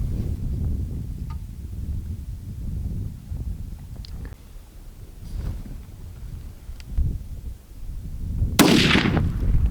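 A single sharp rifle shot cracks outdoors near the end while sighting in a hunting rifle, after several seconds of low wind rumble.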